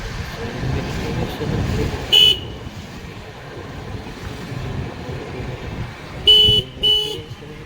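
Cars and other vehicles drive steadily along a road, a constant traffic rumble with two sharp horn toots a few seconds apart, and a voice faintly under the noise.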